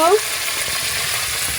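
Spice paste sizzles in hot oil in a pan, a steady close crackling hiss with a brief squeak of stirring at the start.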